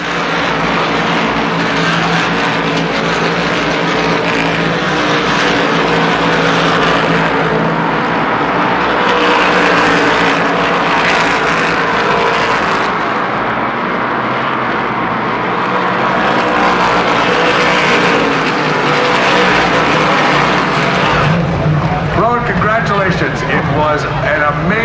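Modified Tour race cars roaring around the Thompson oval in a sustained, loud engine drone with a field passing, steady throughout and shifting near the end, with commentary voices layered over it.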